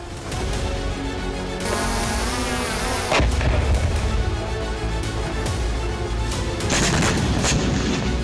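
Artillery fire booms in Kharkiv, Ukraine, amid dense, continuous battlefield noise, with sharp, loud blasts standing out from the constant roar.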